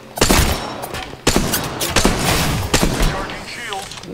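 Rapid bursts of gunfire in the battle royale game Apex Legends, with sharp repeated shots and impacts at close range amid continuous game noise.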